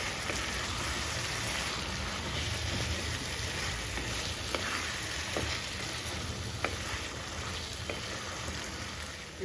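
Chicken ghee roast being stirred with salt in a pan, a steady dense sizzle and frying hiss running throughout, with faint scrapes of the spoon against the pan.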